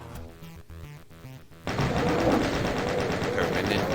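Gunfire in the video game Plutonia, a sudden burst of dense rapid shooting that starts partway through and keeps going loud and continuous over music-like tones and game sounds.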